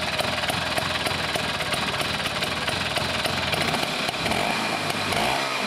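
A Vespa scooter engine fires on the first kick and runs, a loud, busy, buzzing two-stroke rattle sustained close by throughout, with no talking.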